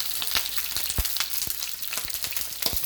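Chicken pieces browning in hot oil in a pan, a steady close sizzle with crackling pops scattered throughout, no voices.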